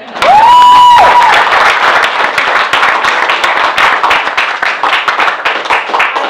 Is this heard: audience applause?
yes